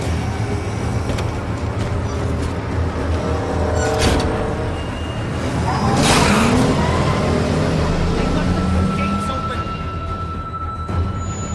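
Car engine idling and revving in The Walking Dead video game, with a steady low rumble that swells midway, accompanied by a brief squealing sound.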